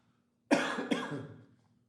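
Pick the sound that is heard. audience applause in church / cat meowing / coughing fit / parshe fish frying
coughing fit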